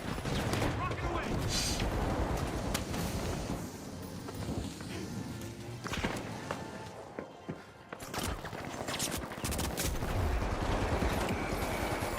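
Heavy weapons fire and explosions in The Finals, a continuous dense barrage with sharp blasts and a dip in the middle, with voices talking over the top.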